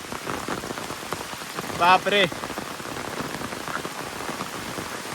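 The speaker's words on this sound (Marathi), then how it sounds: "काय रे पाऊस इलो" Steady rain patters on a surface throughout, with a person briefly exclaiming in the middle.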